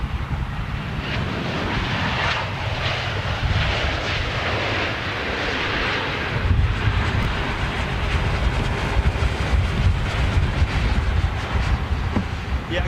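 A Boeing 747 jet roars past overhead on a very windy day in Bristol, its broad engine rumble steady and loud for the whole stretch, mixed with wind noise and no talking.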